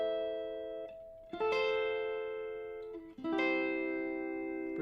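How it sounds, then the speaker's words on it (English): Clean electric guitar chords with no tremolo, three sustained strums ringing out and decaying one after another, each struck fresh with a bright attack, played alone at moderate volume. "without the tremolo, it sounds like this."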